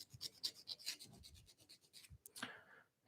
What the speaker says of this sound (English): just using that abrasive to sharpen that